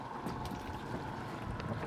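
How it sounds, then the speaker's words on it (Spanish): Commercial fishing boat engines drone in a steady, continuous rumble out at sea, with wind buffeting the microphone and no voices over the noise. "Ah, le metió los motores."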